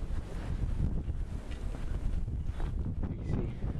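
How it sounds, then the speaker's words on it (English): Strong blizzard wind buffeting the microphone beside a snow-drifted garage, a loud continuous roaring rumble with gusting surges and no speech. "You can see that's how bad the wind is blowing right now."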